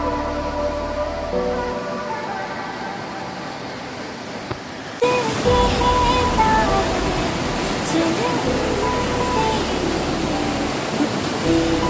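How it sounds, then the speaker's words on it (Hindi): Namaste waterfall in Nepal rushing steadily, a broad continuous roar of falling water that grows louder partway through, with voices talking faintly nearby. "नमस्ते झरना का एक"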